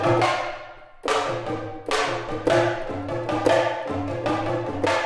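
Octoban drums from the CinePerc PRO sample library, a rapid series of sharp, bright tom hits in a driving rhythm, each strike with a short ringing decay, close and played alone.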